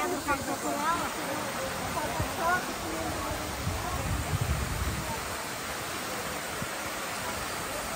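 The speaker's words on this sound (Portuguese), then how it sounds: "essa cascata linda aqui, ó." Cascading waterfall on the Serra da Graciosa mountain range in Paraná, Brazil, a steady broadband rush of falling water throughout, with people talking faintly over it.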